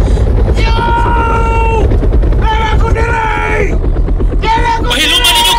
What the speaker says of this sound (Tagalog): Nagpatungod ang helikopter.